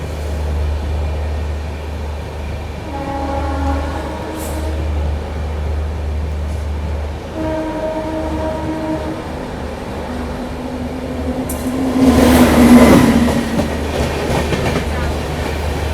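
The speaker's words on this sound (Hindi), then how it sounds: "अभी अलीगढ़ के आउटर में ये क्रॉसिंग हो रही है अपनी नॉर्थ ईस्ट एक्सप्रेस के साथ" Inside the Kanpur Shatabdi Express near Aligarh, a loud continuous rail rumble carries clickety-clack wheel beats and brief horn tones as the North East Express passes alongside, swelling into a louder rush near the end.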